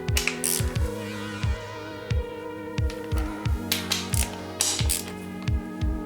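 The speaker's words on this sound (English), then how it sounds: "I'm just gonna tighten these ones, these 3 here. 12 millimeter." A ratchet clicks in quick repeated bursts while 12 mm bolts on a Mazdaspeed 3 transmission case are tightened, close and crisp, with short pauses between runs of clicks.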